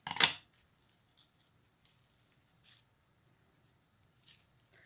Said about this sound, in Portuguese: Cortar aqui a linha.